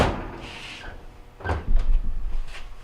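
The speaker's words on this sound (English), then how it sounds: "Now the door just slides right in place once you have positioned the hinges correctly." A GE oven door slides into place on its hinges, a couple of soft scraping slides followed by a louder settling thud and rattle, close and alone.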